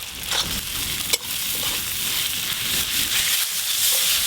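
A ginger, garlic, onion and green chilli paste fries in a pan, giving a constant close sizzle and hiss with a sharp clack near the start and faint stirring scrapes, no speech.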